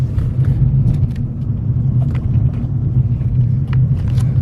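A 1990 Porsche 964 Carrera 4 drives along with a low, steady engine rumble and road noise, with small mechanical clicks as it shifts through gears close by.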